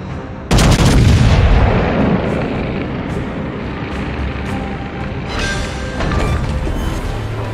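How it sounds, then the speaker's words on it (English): A heavy naval gun blast booms out in a warship battle game on a Montana battleship, a sudden loud report with a long rumbling decay, then a second burst of cannon fire and crackling impacts a few seconds later. "Enemy cruiser destroyed."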